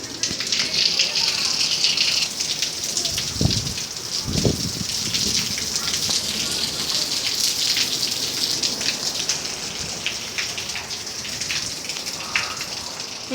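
Heavy rain falls outside a house as a steady, dense hiss with scattered louder drops, continuing throughout while a person talks over it in a few brief bursts.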